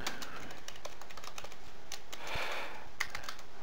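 Keystrokes on a computer keyboard as a server name is entered into a SalesLogix connection setup, a quick run of light, close clicks with no talking.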